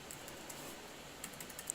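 Light tapping on a computer keyboard's arrow keys during photo editing, a handful of quiet, irregular clicks over faint background hiss.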